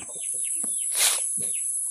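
Black Australorp chickens cluck and chirp in short bursts close by on a farm, over a steady high-pitched hiss in the background.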